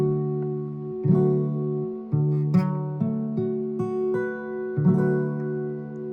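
Acoustic guitar playing the chords from a song: a series of plucked and strummed chords, each ringing and decaying before the next, in an unhurried rhythm, close and clear with no talking.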